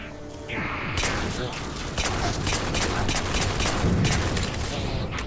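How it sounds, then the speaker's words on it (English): Rapid magnum pistol fire rings out in the Halo 4 video game amid a dense battle of booming shots and clattering mechanisms, loud and continuous, with a voice talking over the action. "I'll go with the magnum actually."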